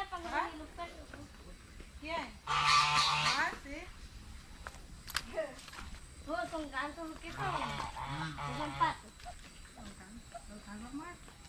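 Geese honk in scattered bursts, some harsh and layered, while people talk nearby throughout.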